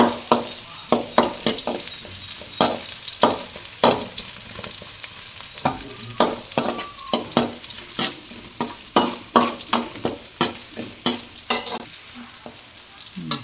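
Garlic frying in a pan while a spoon stirs it, giving a steady sizzle broken by many sharp scraping clicks in an irregular rhythm. The sound is close and clear, with no talking.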